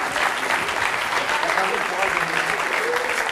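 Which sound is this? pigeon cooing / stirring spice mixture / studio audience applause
studio audience applause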